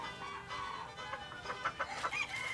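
Chickens kept for laying eggs cluck and squawk close by in a busy, overlapping chorus of short calls that grows livelier toward the end.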